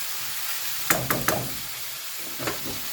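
Garlic and parsley sizzle faintly in a pan for a mushroom quiche, a low steady hiss broken by a few sharp utensil knocks and stirring clicks.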